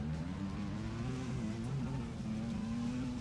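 An ATV engine in the video game ATV Offroad Fury 4 drones steadily with a wavering buzzy pitch as the quad flies through the air, continuous and close without pauses.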